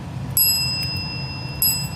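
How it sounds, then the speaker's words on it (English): A young dachshund puppy strikes a metal service bell twice, each clear ding ringing out bright and near and then fading slowly, with quiet room noise between the rings. "Ring the bell. Ring it."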